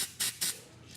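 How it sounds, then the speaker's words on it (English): Touch-up spray paint for hair sprays from an aerosol can in two close, loud hissing bursts, then quiet, with the start of a third burst at the end. "the touch-up spray paint that we're using in our hair"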